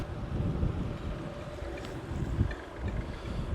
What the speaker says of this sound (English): And it's absolutely a howling gale now.